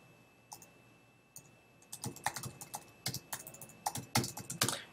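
Keys clack on a computer keyboard while code is being typed, starting with a few sparse taps and then building into a quick, irregular run of close, crisp keystrokes.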